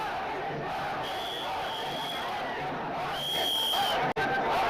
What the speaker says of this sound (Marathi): प्रचंड गर्दी मराठा आंदोलकांची इथे स्टेशनवर जमलेली